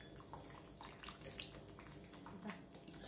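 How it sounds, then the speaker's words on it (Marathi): A little water is poured into a pan of colocasia-leaf curry with tamarind pulp, jaggery and salt, making a faint, soft splashing and trickling throughout. "थोडंसं पाणी टाकतो।"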